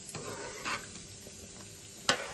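Chicken curry stirred with a spoon in a sizzling pan, a few scraping strokes over a soft frying hiss, ending with a sharp clink of metal.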